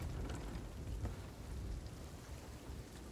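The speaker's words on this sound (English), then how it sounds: "It is raining." Steady rain pours down in a stormy sea setting in the Sea of Thieves video game, a constant dense hiss with low rumbling underneath, loud and continuous throughout with no talk.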